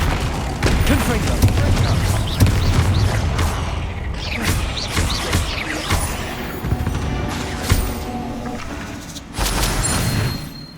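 Spell blasts from Bombardo and Confringo burst in a fantasy action game, a rapid string of loud booming impacts and crashes packed close together, with a brief pause before a final heavy blast.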